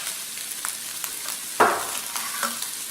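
Green and red peppers and peanuts stir-fry for kung pao chicken, a steady hot sizzle with scattered scraping stirs and one louder clatter midway.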